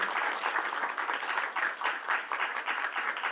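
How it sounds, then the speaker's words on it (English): An audience at a community education council meeting claps for students, a dense, even burst of applause lasting a few seconds. "So huge round of applause before you."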